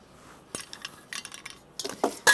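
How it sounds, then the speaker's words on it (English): Chopped onion is tipped into a skillet with a little olive oil, producing light scattered clinks and scraping of utensil against the pan that build into a brief burst of sizzle at the end. "I'm going to put in my onion."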